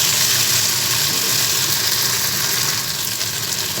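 Chopped okra sizzling in a hot pan, a loud, dense, continuous hiss that stays steady and close throughout.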